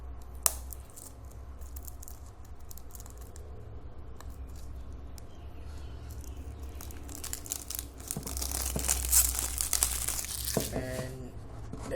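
Plastic shrink wrap crinkles and tears as it is peeled off a One Piece: Kaizoku Musou 2 PS Vita game box, close-up rustling that grows louder and busier toward the end.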